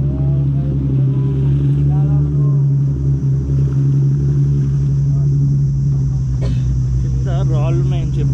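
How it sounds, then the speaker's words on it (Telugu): A tour boat creeps slowly through shallow rocky water on an island-hopping trip, its motor a steady low drone close by, with wind over the microphone and people talking throughout. "చాలా స్లోగా తీసుకెళ్తున్నాడు బోట్ని, కింద తగిలిద్దేమో అని."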